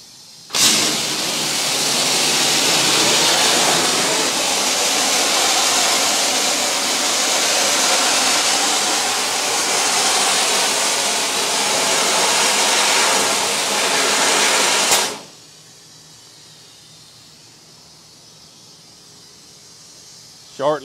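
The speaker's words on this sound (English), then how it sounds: "we're just going to do a short demonstration of a dry blast with the AmphiBlast" A Schmidt Mini AmphiBlast abrasive blaster running in dry mode gives a loud, steady rushing hiss of air and grit for about fifteen seconds, then cuts off abruptly, leaving quiet background.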